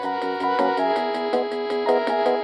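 A late-1980s home computer plays a short synthetic tune of buzzy, thin tones in a fast repeating pattern, steady and fairly loud with no voices.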